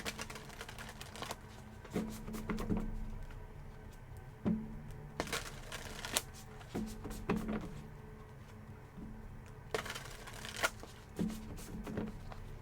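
Playing cards being shuffled and riffled close by, quiet crisp bursts of flicking and tapping with short pauses between them.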